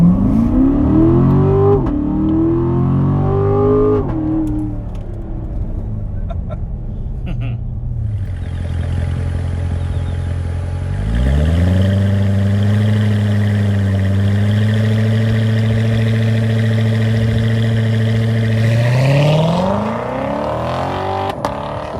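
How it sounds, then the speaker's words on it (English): A 2019 Chevrolet Corvette C7 Grand Sport V8 launches at full throttle, engine roaring loud and near as revs climb through gear changes, then settle into a steady high drone. "floor the throttle, get the revs up, and here we go"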